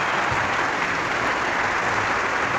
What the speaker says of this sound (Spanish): Aplauso, aplauso. Bienvenido, bienvenido.